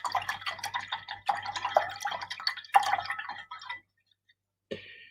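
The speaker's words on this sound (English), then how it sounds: "Rinse out your brush." A paintbrush is swished and rinsed in a water cup with quick, light splashing and clinking. Low background hum sits beneath it, then there is a short silence and one final small splash.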